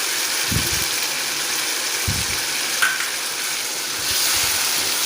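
Chicken and macaroni fry in a pan, a steady bright sizzle with a few low scraping stirs and clinks rising through it, no talking.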